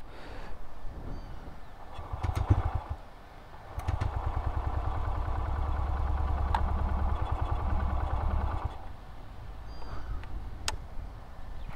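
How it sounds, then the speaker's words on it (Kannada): Bajaj Freedom 125 motorcycle with its CNG/petrol engine idling, a steady mid-pitched exhaust putter that swells louder for several seconds in the middle, close by with a few clicks and no speech. "ಇನ್ನು ಬನ್ನಿ ಗಾಡಿ ಎಕ್ಸಾಸ್ಟ್ ಕೇಳೋಣ."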